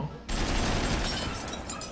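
Cartoon machine gun fire from Astro Boy's rear end, a loud, continuous rattling burst that starts abruptly after a brief quiet moment and keeps going steadily to the end.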